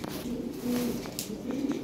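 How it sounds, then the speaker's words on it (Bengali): Large pigeons of an imported European bloodline coo in soft, throaty rolling notes, close by, with a faint rustle underneath. "অরিজিনাল ইউরোপিয়ান ইম্পোর্টেড ব্লাড লাইনে 2020 ব্লাডের কবুতর"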